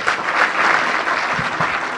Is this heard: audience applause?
yes